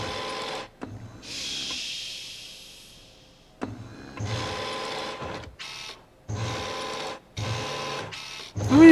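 Egg-handling machine in the video game Resident Evil 2, whirring and clattering mechanically in several separate bursts, with a long fading hiss near the start and no voices over it.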